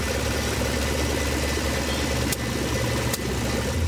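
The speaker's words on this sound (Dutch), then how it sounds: "Nog wat sleutelen aan de motor van de Opel." Opel rally car engine idling at a historic rally near Ieper, a steady loud low rumble that continues throughout with two brief clicks and no talking.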